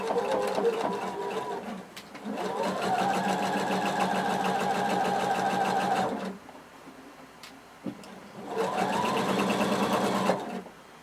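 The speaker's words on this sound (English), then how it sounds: "And we're going to sew across our shoulders." A sewing machine stitches a cardigan shoulder seam with a normal-length stitch and a 5/8-inch seam allowance, whirring in three close, steady runs separated by short pauses.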